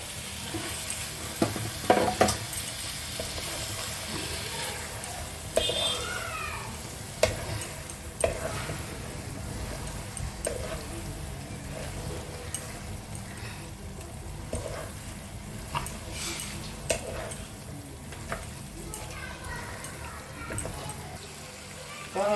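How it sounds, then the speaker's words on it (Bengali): Washed mutton pieces dropped into cooked-down masala for mutton masala curry, a moderate sizzle with repeated stirring scrapes and occasional sharper clatters, fairly close and steady, with some speech-like sounds faintly underneath. "এবার আমি মাংসগুলো দিয়ে দিচ্ছি,"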